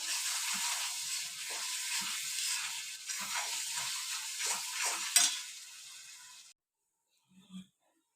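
Onions fry and sizzle in a pan for a chicken roast, with a broad steady hiss and repeated scraping stirs over about six seconds, then the pan goes quiet apart from a faint knock near the end.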